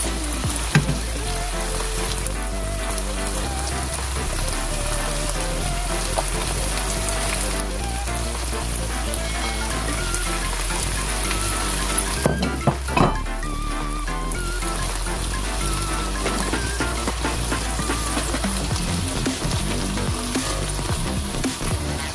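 Bell peppers fry over medium heat in a pan for chicken quesadillas, giving a steady, dense sizzle with stirring scrapes throughout, loud and close, with no talking.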